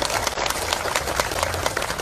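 Crowd applause at a political campaign gathering, given as thanks to food providers, a dense continuous wash of many hands clapping close and loud throughout.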